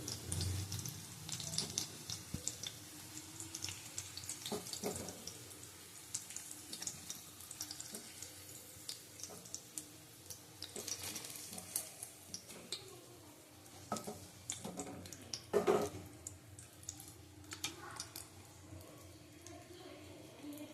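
Potatoes with spices fry in a pan for a green banana and potato curry, giving a steady sizzle mixed with stirring and clattering, while a voice talks over it throughout.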